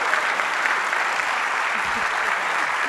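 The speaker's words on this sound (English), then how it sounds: "One more round of applause for Secretary Jennifer Granholm." Audience applause fills a hall at the end of the annual Wege Lecture on Sustainability, steady clapping from a sizable crowd, loud and sustained for a few seconds.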